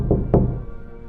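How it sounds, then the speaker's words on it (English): Knocking on a door in a home at night: two firm, close knocks in quick succession, each a short hollow thud with a brief ring after it. "the knocking came again"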